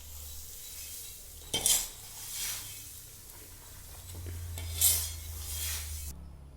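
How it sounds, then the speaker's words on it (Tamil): Roasted sprouted grains for a health mix powder are stirred and tossed in a metal vessel before grinding, giving soft scraping and rattling swishes with a couple of louder scrapes over a low machine hum. "அரைக்கிறதுக்கு முன்னாடி எல்லாத்தையும் கலந்துட்டுருக்காங்க."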